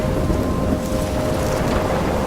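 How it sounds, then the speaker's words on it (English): Storm in the video game Life Is Strange, a dense, loud, unbroken roar of wind and rain that fills the whole moment with no voices. "I'm trapped in a storm?"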